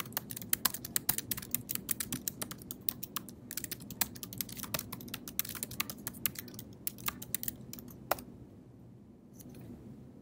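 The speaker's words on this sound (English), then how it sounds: "Now I can start typing." Rapid typing on a computer keyboard while writing a Google Docs document, a dense run of close, crisp key clicks that continues steadily, then thins to scattered taps and stops near the end.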